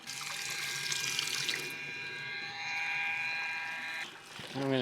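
A Milwaukee M12 water transfer pump runs while sucking up leaves and water, giving a steady whirring motor tone over gurgling water that drops off near the end, with a voice briefly at the close.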